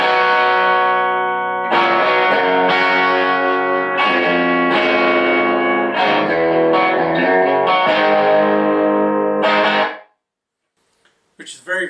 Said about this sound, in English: So first up I have the fat buffer,